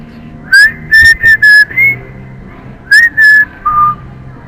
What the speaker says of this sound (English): Can't sing, but I can whistle.